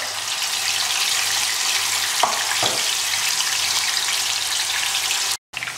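Onions frying in hot mustard oil make a dense, steady sizzle, close and loud, broken by a couple of brief scrapes and a momentary dropout near the end, with no speech.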